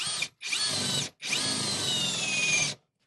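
A Greenworks 24V cordless drill drives a half-inch screw into wood without pre-drilling, in three bursts, two short and one long, whining loudly up close before stopping.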